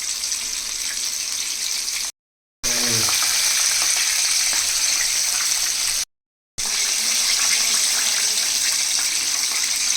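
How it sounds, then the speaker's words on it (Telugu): Coated KFC-style chicken frying slowly in hot oil, a loud, steady close sizzle and bubbling that runs continuously, broken by two brief silent gaps. "ఇవైతే కొంచెం నిదానంగా ఫ్రై చేసుకోవాలి, లేదంటే కోటింగ్ ఊడిపోయే అవకాశం ఉంది."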